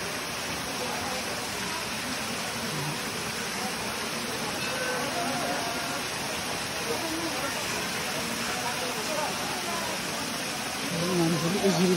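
Water pours steadily from the 108 spouts at Muktinath Temple, a continuous broadband splashing rush that stays near and loud throughout.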